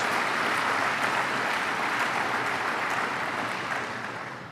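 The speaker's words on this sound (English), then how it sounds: "Give her a big round of applause to Elaine Babe Calleros." A crowd of college presidents and guests applauds for Elaine Babe Calleros, a broad steady roar of clapping that fades toward the end.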